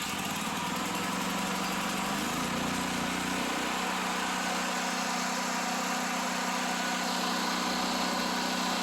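A portable generator left in long storage runs steadily on choke after cranking, giving a loud, continuous mechanical drone. Its pitch shifts slightly early on, then holds even, with no voices.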